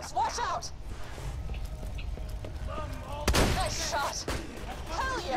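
Gunfire bursts in the video game Borderlands 2, with a loud nearby shot cracking out midway amid other scattered shots, while people talk and shout over the action.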